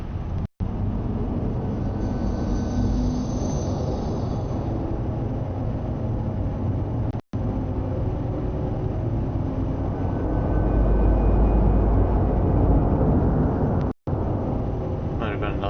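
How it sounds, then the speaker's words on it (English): A broad, rumbling spaceship engine roar in the game Star Citizen swells steadily for several seconds, dense and loud, with brief cuts in the sound, like a craft powering up and lifting off. "Ship taking off, I guess."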